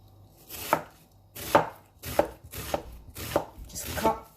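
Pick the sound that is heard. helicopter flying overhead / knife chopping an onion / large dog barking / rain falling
knife chopping an onion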